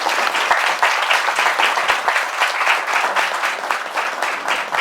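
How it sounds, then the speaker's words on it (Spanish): Audience at a book presentation applauds the author; steady, dense clapping from a room full of people, loud and close, continuing evenly for the whole stretch with no talk over it. "Pues vamos a agradecer con un aplauso al autor."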